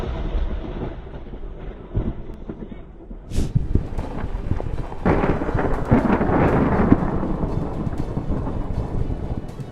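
Deep rolling thunder builds and rumbles loudly after a sharp crack, with wind buffeting the microphone and a hint of rain.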